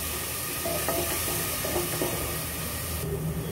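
Spice paste for a lauki and urad dal sabji roasting in a pan over a low gas flame, giving a steady, close, even sizzle throughout with faint stirring and no talking.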